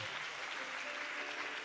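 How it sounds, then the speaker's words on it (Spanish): Faint, distant applause from a congregation at a Spanish-language sermon, a steady even wash of many hands clapping at once with no speech. "Dale el aplauso fuerte."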